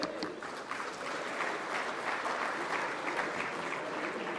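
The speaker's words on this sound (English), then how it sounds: "A huge round of applause for that session." Steady applause from a large conference audience after a leadership forum session, a continuous dense wash of clapping heard from a distance without talk.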